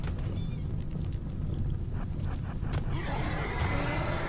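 Angry horses in the video game RimWorld neigh and whinny amid a busy rumble of hooves and background noise, with no speech over it.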